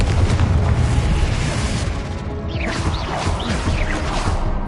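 A booming explosion-spell blast in a video game, the Confringo curse: dense broadband rumble held steady and loud throughout, with whooshing magical swirls rising over it in the second half.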